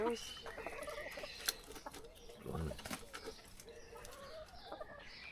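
Soft clucking and low murmuring from a few chickens nearby in a garden polytunnel, with scattered brief calls over a steady background.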